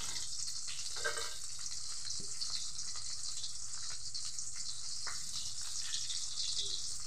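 A fish head frying in oil gives a steady, close hiss and sizzle that holds evenly throughout, with a few faint clinks over the top.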